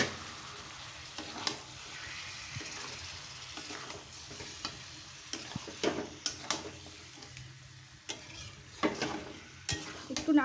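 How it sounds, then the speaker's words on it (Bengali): Marinated chicken frying in a cooked-down spice paste, a soft continuous sizzle broken by repeated utensil scrapes and clatters as it is stirred, fairly quiet and without talk. "মশলাটা আমার কষানো হয়ে গেছে, এবার আমি ম্যারিনেট করা মাংসগুলো দিয়ে দেবো এর মধ্যে।"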